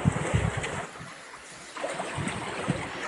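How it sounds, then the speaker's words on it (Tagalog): Strong irrigation water rushing through channels beside rice fields, a broad steady roar with gusty surges, close and continuous with no talk over it. "Laki ng tubig ng irrigation"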